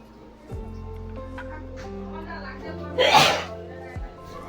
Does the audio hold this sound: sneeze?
yes